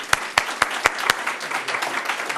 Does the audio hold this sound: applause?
yes